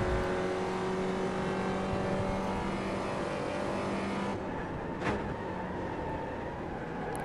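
An SRF race car circling Okayama in iRacing, its engine a steady, loud, harmonic drone that eases and shifts pitch partway through, then carries on smoothly with no talking.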